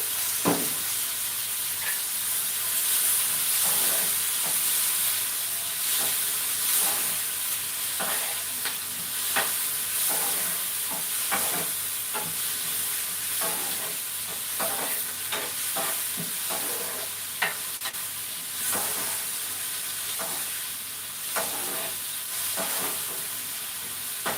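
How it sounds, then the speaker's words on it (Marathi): Masala roasts in a little oil in a pan for paneer masala, a continuous close sizzle broken by repeated spatula scrapes and stirring taps throughout. "थोडंसं तेल टाकून आपल्याला हे मसाला व्यवस्थित असा भाजून घ्यायचा आहे"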